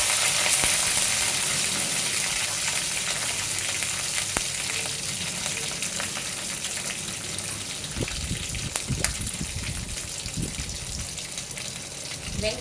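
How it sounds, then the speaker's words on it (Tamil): Curry leaves and green chillies fry in hot oil for a fish curry, a continuous loud crackling sizzle that persists steadily, with a few sharper spatters and clinks of a utensil near the end. "கருவேப்பிலை பொரிஞ்சதும் 2 பச்சை மிளகாய் சேர்த்துக்கணும்."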